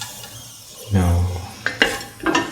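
Cashew nuts frying in clarified butter in a pan, a soft sizzle broken by a few scraping stirs and light clinks of the spoon against the pan.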